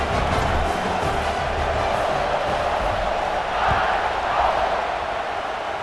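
Stadium crowd in EA Sports College Football 26 roars steadily through a kickoff after a touchdown drive, a dense, even wash of cheering that holds at the same loud level throughout.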